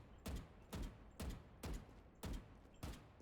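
Gunfire in the tactical shooter VALORANT: six evenly spaced single tap shots, about half a second apart, each a sharp crack with a brief decaying tail, alone and fairly quiet.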